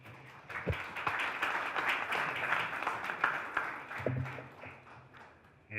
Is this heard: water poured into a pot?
no